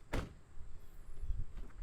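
A car door with a faulty lock is pulled open, giving a sharp latch clunk at the start followed by softer handling rattles and faint thumps at close range.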